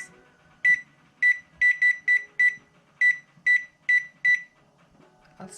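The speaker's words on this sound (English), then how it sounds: "We'll set our timer to 12 minutes." A series of ten sharp electronic beeps, evenly spaced but with slight pauses, loud and close, like buttons being pressed on a kitchen timer.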